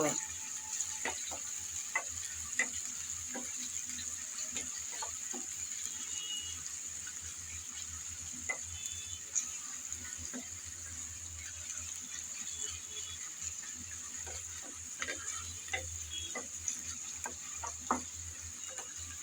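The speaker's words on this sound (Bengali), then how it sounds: "বেশ অনেকটা পরিমাণ আমি পেঁয়াজ কুচি দিয়ে দিলাম এখন নেড়ে চেড়ে" Chopped onions stir-fried in a pan for mutton liver, a faint low sizzle under a steady hiss, with scattered clicks and scrapes of a spatula throughout.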